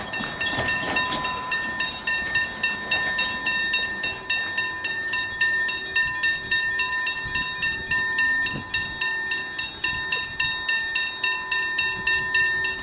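A train passes a railway level crossing with rapid, regular clickety-clack from the wheels. Crossing bells ring steadily over it, fairly loud and close, and no one speaks.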